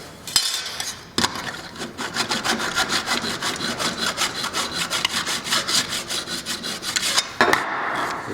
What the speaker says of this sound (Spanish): la mejor forma de quitarlo es con una lima, y aprovechamos que el borde de este ala nos da la guía para limar